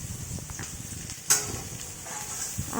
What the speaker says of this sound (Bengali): সকালে বসিয়ে দিয়েছিলাম আলু ভাজা